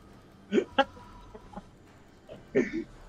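Clucking raptor creatures at the League of Legends 'chicken' jungle camp, two short bursts of squawks over game background noise.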